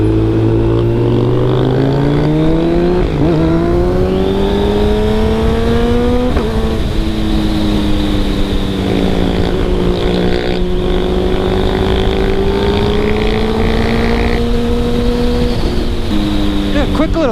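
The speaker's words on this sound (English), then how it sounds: "Yeah, quick little dirt bike" Suzuki DRZ 400 dirt bike engine revving and droning nearby, its pitch rising and falling through several throttle changes over a steady loud motor tone.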